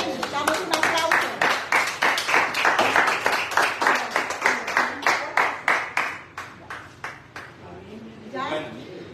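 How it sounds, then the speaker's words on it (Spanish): Applause at a church service: a congregation claps in dense rhythmic bursts that thin into scattered individual claps toward the end, with some voices mixed in. "Damos un aplauso."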